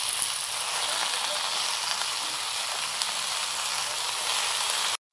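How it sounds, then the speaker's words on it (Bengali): Mustard greens hitting hot oil in a frying pan: a loud, steady, close hiss of sizzling that holds evenly for several seconds, then cuts off abruptly at the end. "এবারে দিয়ে দিচ্ছি সরষে শাক।"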